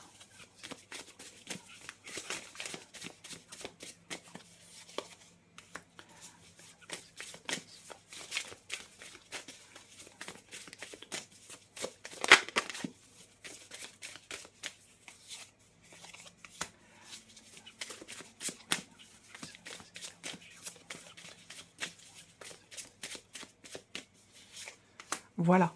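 Tarot cards being shuffled by hand, with a soft run of riffling, flicking and sliding bursts repeating throughout, close and fairly quiet, with faint talking now and then underneath.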